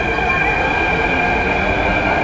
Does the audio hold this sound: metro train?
yes